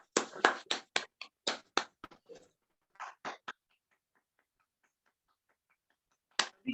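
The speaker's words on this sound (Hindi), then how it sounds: "दोस्तों, जोरदार तालियां होनी चाहिए उनके लिए।" Scattered applause from a small audience welcoming a speaker to the stage at a training session, a burst of claps that thins out to faint ticks before a brief renewed clap at the end.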